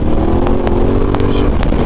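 A motorcycle engine drones loud and steady while riding through forest roads, with a few sharp clicks and rattles over the constant rumble.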